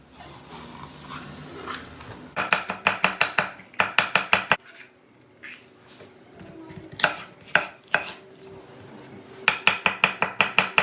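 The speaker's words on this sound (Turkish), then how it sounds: "Şimdi diğer kalan malzemeyi doğrayacağız." Rapid knife chopping of vegetables on a cutting board, coming in quick bursts of sharp rhythmic taps with short pauses between them.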